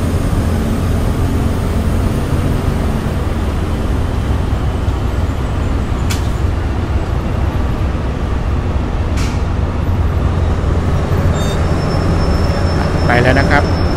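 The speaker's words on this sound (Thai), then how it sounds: "รถไฟกำลังจะมุ่งหน้าไปสถานีมักกะสันครับ" A steady, loud low rumble of a Prachinburi–Bangkok train moving off from Khlong Tan station, with a couple of brief metallic squeals and a faint high tone near the end.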